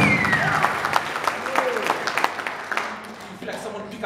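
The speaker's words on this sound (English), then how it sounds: "Clap for Jesus." A church congregation clapping together, a loud close burst of applause that thins toward the end, with a voice speaking over it.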